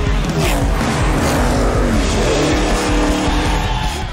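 Roaring engines of 2,000-horsepower drag racing cars blast down a 1/8-mile strip at around 150 mph, a loud, continuous high-revving drone with tire noise throughout.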